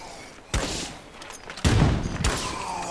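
Gunfire in the video game Lethal Zone: two sharp, loud bursts of close shots about a second apart, each trailing off briefly.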